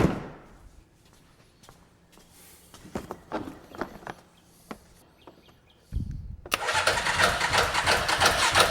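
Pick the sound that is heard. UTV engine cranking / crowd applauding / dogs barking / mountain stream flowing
UTV engine cranking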